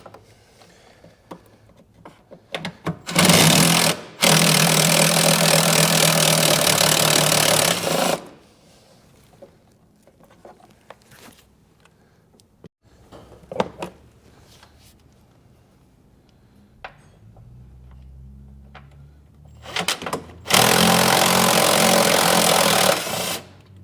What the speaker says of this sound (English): we're going to take a 13mm socket and remove the battery tray